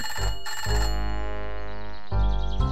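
A telephone rings loudly in a children's cartoon, its bright electronic trill coming in repeated bursts close up with no talk over it.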